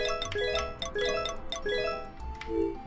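A chiming bell in the Harvest Moon: Back To Nature farming video game rings in a repeated bright ding-dong pattern, several tonal strikes in a row over a soft game backdrop, with no talk.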